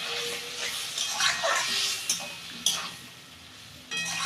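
A small amount of water goes into a pan of frying ground poppy seed and green chilli paste with vegetables, producing a fizzing hiss and soft stirring scrapes, fairly close, with no talking.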